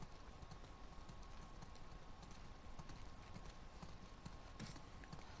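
Horses' hooves clip-clop in a steady, overlapping rhythm on a snowy trail in The Last of Us Part II, faint and continuous, with no talk.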